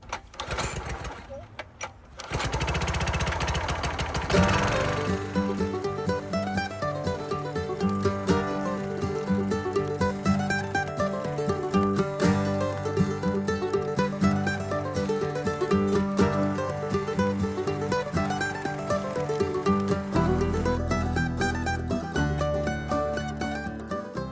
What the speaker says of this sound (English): I was splitting up some huge rounds. I had some 4-foot diameter rounds of some fir.